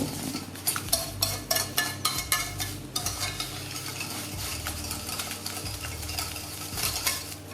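Carrot cake batter with sugar is mixed vigorously by hand in a bowl, a rapid rhythmic scraping and tapping of a whisk or spoon, close and continuous without speech.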